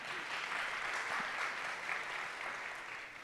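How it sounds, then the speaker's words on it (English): An audience claps steadily at a town hall meeting, a dense, even wash of applause that holds at a constant level for a few seconds and tapers slightly at the end. "It's okay, you can clap."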